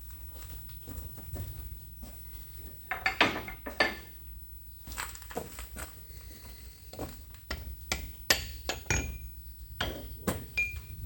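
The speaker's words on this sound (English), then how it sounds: "We get a hammer." A hammer taps repeatedly on metal, sharp ringing strikes in an irregular rhythm, some louder than others, close by with no talking, while fitting an Algra tool post to a lathe.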